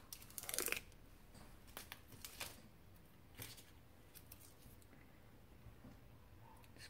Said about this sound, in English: tear the washi tape off.